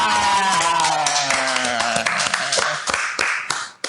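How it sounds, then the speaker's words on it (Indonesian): Hands clap together in scattered bursts, a small group applauding nearby while voices and music run underneath. "Oh, tepuk tangan."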